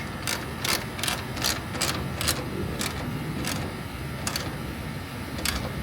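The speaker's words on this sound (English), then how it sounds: "Now we can start tightening everything down. It's just a 1/2 inch nut, fellas, on the back side." A ratchet tightens a half-inch nut on the back side of a factory GM fan and radiator in a C10 square body truck, with repeated crisp clicking bursts in an uneven rhythm, close and clear.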